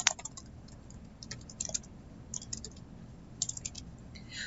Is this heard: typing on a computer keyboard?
yes